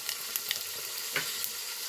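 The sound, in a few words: mung dal and black cumin frying in hot oil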